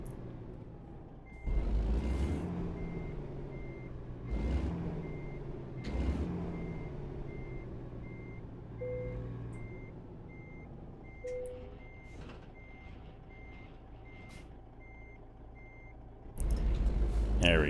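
Steady high reversing beeps from a truck in American Truck Simulator repeat evenly throughout, over a low engine hum with occasional air-brake hisses and someone talking.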